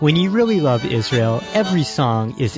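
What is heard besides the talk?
No distinct noise like a dog, phone or traffic.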